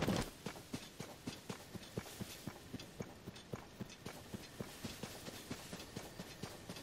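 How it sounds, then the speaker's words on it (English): Horse hooves beating in a fast, steady gallop rhythm in the video game Tears of the Kingdom, a long even run of sharp repeated thuds at moderate, close level with no talk. "The horse is a bit quicker."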